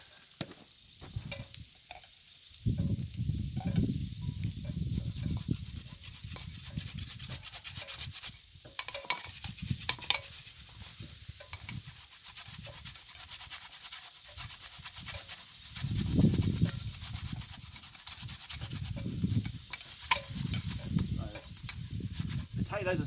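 Potatoes grated by hand on a metal grater for hashbrowns at an outdoor cooking fire, a steady rasping rub coming in repeated bursts, close and fairly loud, with brief pauses between strokes.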